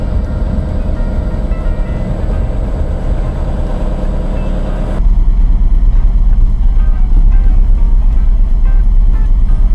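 Worn wheel bearing on a 1971 VW bus while driving, a steady low rumbling drone under road and engine noise, getting louder and rougher halfway through as speed picks up.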